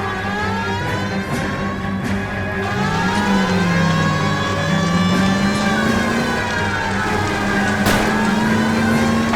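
A car engine roars through a police chase in the video game L.A. Noire, loud and continuous with pitch rising and falling, while a wailing siren sweeps above it.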